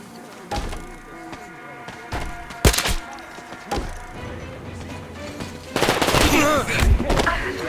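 Gunfire in the Metro Exodus video game: scattered shots and sharp impacts over a busy game soundscape, then a heavier loud stretch of firing near the end, with voices talking in the background.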